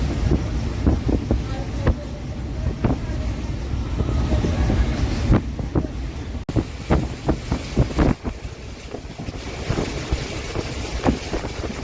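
A steady rumble of a moving train in Tamil Nadu from inside a carriage, with rhythmic clacks of wheels over rail joints and wind noise throughout.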